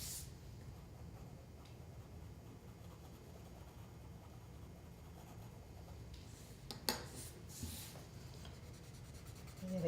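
A pencil shading on paper, a soft continuous scratchy rubbing of graphite that goes on steadily and faintly, with a few louder brief scrapes near the end.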